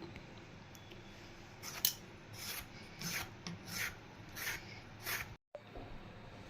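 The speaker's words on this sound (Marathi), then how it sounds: "अशा प्रकारे आपण या आंब्याची पूर्ण साल काढून घेतलेली आहे" A peeler scrapes the skin off ripe mangoes for murabba in a kitchen, a string of soft rasping strokes about half a second apart, close and fairly quiet, with no talk.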